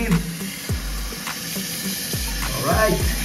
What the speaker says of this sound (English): water is filling the new tank